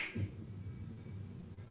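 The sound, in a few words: finger snapping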